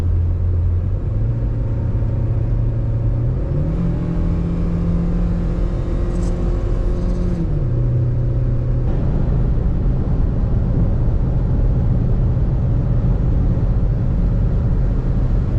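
Steady loud engine and road rumble fill a car cruising through Wyoming, with gear and speed shifts changing the drone's pitch partway through and no talk.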